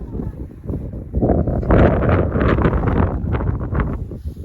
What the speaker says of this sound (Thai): ลมแรงนะคะ